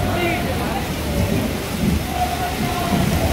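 Heavy rain pours steadily during a Ganesh immersion procession at night in Raipur, with low rumbling thunder rolling underneath the constant dense hiss of falling water.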